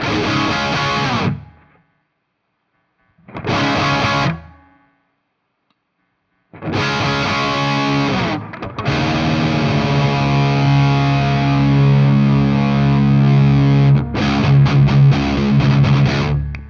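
Heavy distorted electric guitar through a Voodoo Labs preamp with mids scooped plays short chord bursts with silences between them, then a longer sustained passage with a hollow, mid-scooped tone.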